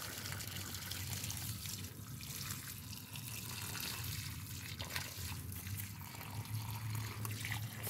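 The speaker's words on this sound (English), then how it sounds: "So these ones I can water around them because they have the bottles around them." Water running steadily from a hose or tap while garden plants ringed with bottles are watered in a hot Melbourne front yard, a continuous close splashing and trickling with no speech.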